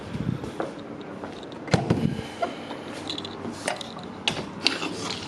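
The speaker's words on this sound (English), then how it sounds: "Closing windows, closing doors." Windows and doors being shut indoors: irregular mechanical clicks, latches and creaks with a couple of sharper knocks, fairly close and moderately loud, no talking.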